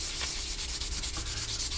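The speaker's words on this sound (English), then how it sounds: "we'll switch to a finer sanding block, just like this. And just run over the entire area again." A fine sanding block rubs back and forth over the wing of a 1/48 Hasegawa Harrier GR7 plastic model, giving a quick, regular rhythm of soft scratchy strokes, close and alone.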